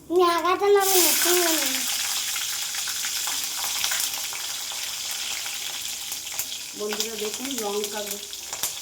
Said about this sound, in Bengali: কালো জিরে ফোড়ন দিলাম, কালো জিরে দিলাম, কাঁচা লঙ্কা দিলাম